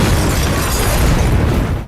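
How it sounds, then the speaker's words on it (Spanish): A loud, sustained explosion roars with dense rumbling blast noise for nearly two seconds before cutting off abruptly. "Les dije que lo de las explosiones iba en serio"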